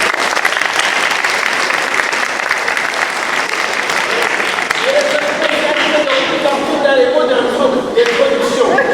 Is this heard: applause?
yes